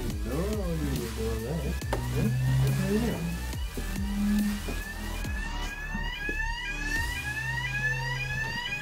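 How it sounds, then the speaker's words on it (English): A fire alarm sounds inside an abandoned office at Belle Vue Stadium in Manchester, its repeated rising electronic sweeps growing prominent in the second half, with a voice and footsteps or handling noise heard earlier. "fire alarm's going off according to this"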